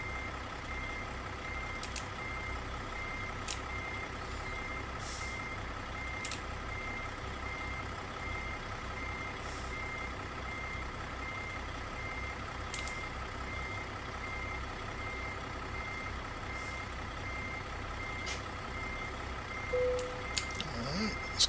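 A municipal dump truck in American Truck Simulator reverses with a steady engine drone, its backup alarm beeping at regular intervals throughout, moderately quiet, with a short air-brake hiss near the end.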